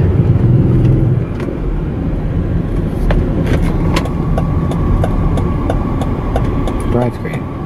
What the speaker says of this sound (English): let's take a little test drive up the road